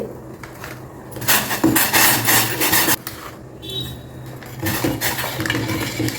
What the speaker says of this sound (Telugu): ఇలా ఒక ఐదు స్పూన్లు వేసి బాగా కలిపేసేయండి